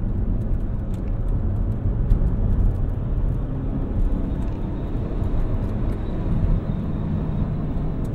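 2006 Saab 9-3 Arc hatchback with a 5-speed automatic, its engine droning and building steadily while driving, heard from inside the cabin under constant road noise, no talk.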